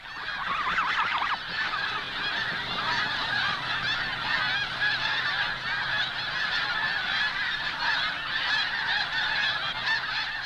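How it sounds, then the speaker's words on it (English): A large flock of wild snow geese in North America calls clamorously, a dense continuous chorus of overlapping honks that stays loud throughout, with one nearer bird's call standing out briefly at the start. "The wild geese become more and more clamorous."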